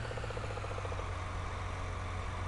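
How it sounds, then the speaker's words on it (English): A tractor engine idles in Farming Simulator 19, a steady low drone with a faint pulsing rattle early on, continuous and close with no talking. "there's something very odd about the engine sound"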